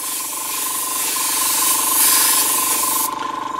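A loud, steady hiss of aerosol spray paint through a stencil runs close up for several seconds, then cuts off abruptly into quieter sputtering.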